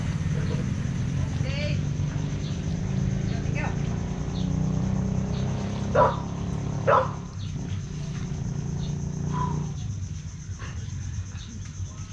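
A dog barks a few times at a distance over a steady boat engine drone and water noise, with people talking, at sea off Palawan, Philippines.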